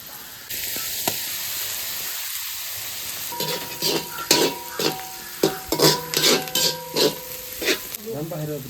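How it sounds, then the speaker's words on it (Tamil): Onions drop into hot oil in a home kitchen, setting off a burst of crackling sizzle with sharp spattering pops and stirring scrapes, while a voice speaks faintly at the start. "எண்ணெய் கொதிச்சதும் வெங்காயத்தை போட போகிறோம்."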